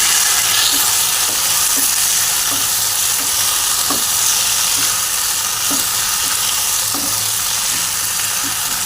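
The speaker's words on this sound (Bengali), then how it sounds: "এবার আমি এই পেস্টটাকে আমি ঢেলে দিচ্ছি। দিয়ে এর সঙ্গে ভালো করে মিশিয়ে নেব।" Vegetables sizzle steadily in a pan as a spice paste is poured in and stirred through, with a broad continuous frying hiss and a regular series of soft spoon scrapes against the pan, close and fairly loud, no voices.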